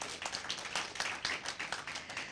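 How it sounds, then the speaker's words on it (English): An audience at an inter-secondary school debate gives a round of applause for a student's closing remarks, with fairly quiet, somewhat irregular clapping that pulses through the whole short stretch. "Round of applause for him."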